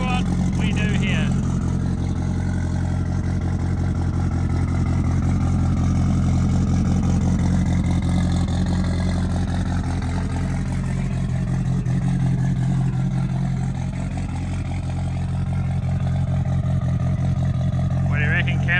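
A small race car motor revs hard at high rpm and drops through gear shifts, a steady loud mid-pitched engine drone running the whole time with a voice talking over it.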